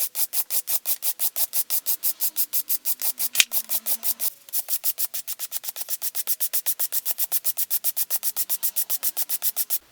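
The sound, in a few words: hand brushing aluminum metal surface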